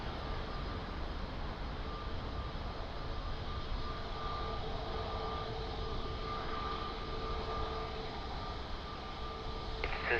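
Steady broadband jet roar of an airliner on approach to land at Lisbon Airport, runway 02, continuous and fairly distant with a faint tonal whine, no voices.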